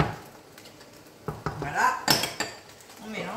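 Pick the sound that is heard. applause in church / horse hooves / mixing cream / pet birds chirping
mixing cream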